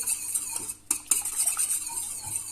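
A spoon stirs a starch-thickened milk sauce in a pot on the stove, with soft scraping and clinking against the metal in an irregular rhythm and a faint sizzle beneath, close-up and without speech.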